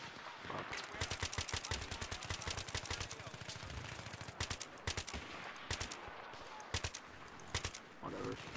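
Shooter video game gunfire comes as fast, loud bursts of rapid shots, broken by short pauses and scattered single shots. A voice talks faintly underneath.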